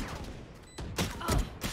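Gunfire in the Valorant video game, a few quick bursts of shots in the second half after a quieter start, close and moderately loud, no voices.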